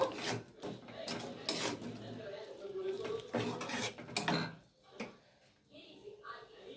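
A spoon scrapes and clinks against a pan while paneer curry is stirred after water goes in, giving close, irregular metallic rubs and knocks with quiet speech in between.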